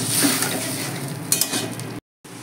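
A potato and fish-roe masala is stirred in a pan after a little water is added, giving a close, steady sizzle with soft scraping of the spoon and a brief silent gap near the end.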